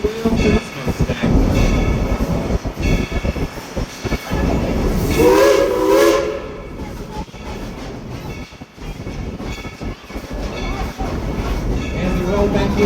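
The Dollywood steam train rolling into the depot, a loud continuous rumble and clatter of rail cars with a brief whistle-like tone in the middle, heard from aboard the train while a person speaks over it.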